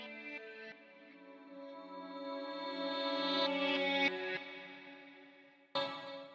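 Clean guitar picking, played backwards and run through a Darkglass Alpha Omega 900, swells up slowly in sustained, shimmering chord tones and then cuts off abruptly before one last quick swell.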